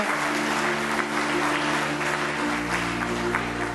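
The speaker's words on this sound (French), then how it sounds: "Essayez de les applaudir un petit peu" An audience at a morning innovation conference round table applauds the panelists, a steady, continuous wash of clapping at even volume over a low hum throughout.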